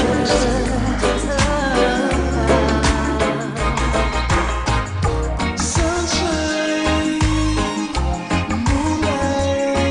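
A recording of a song plays as a full band with a steady beat and dense mix, loud and continuous throughout.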